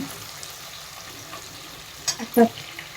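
Curry leaves dropped into hot oil crackle and sizzle in a soft, steady hiss, with a few sharper pops and a stir near the end, heard close up.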